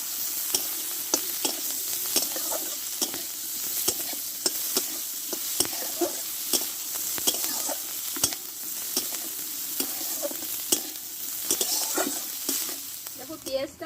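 Garlic cloves, a large onion and black cumin fry in oil in a pan, a continuous sizzle broken by regular sharp clicks and scrapes of a spatula stirring, close and steady throughout.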